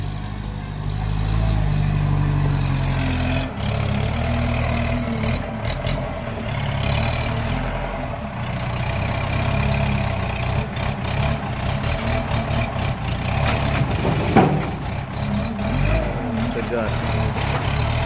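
A truck engine runs steadily at a sugarcane harvest, a low continuous rumble that rises now and then as it revs and moves, with voices talking over it.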